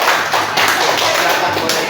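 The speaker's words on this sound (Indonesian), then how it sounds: "Berarti tepuk tangan dulu untuk kelompok matahari." A classroom of students claps for the Matahari group after its presentation, a short, close burst of brisk, uneven hand claps with a few tapping thuds and some voices underneath.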